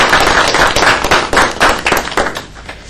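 A round of applause at a school district board of education meeting, a crowd clapping briskly in a dense patter that fades toward the end.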